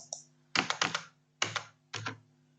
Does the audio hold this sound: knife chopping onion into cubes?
no